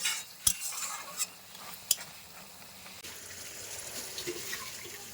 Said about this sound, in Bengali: নামানোর আগ দিয়ে এটা তেলটা দিয়ে একটুখানি নাড়াচাড়া করে নামিয়ে নেব